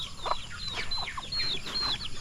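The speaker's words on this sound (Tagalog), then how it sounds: "Black na pabo, lalaki." A black male turkey mingles with chickens and turkey chicks on a farm after eating corn. Close, high chirps and short clucking calls repeat in quick, uneven bursts over a soft background.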